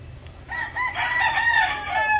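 A Boston Roundhead rooster crows close by, one long loud cock-a-doodle-doo rising after a brief quiet start and holding strong to the end, with no talk over it.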